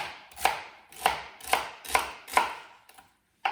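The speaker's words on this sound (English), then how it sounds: "Nice, roughly chopped, and I'll just do these last few pieces on this board here." A knife chopping celery on a board, six sharp, evenly spaced thuds heard close and clear, with a brief pause before the last cut.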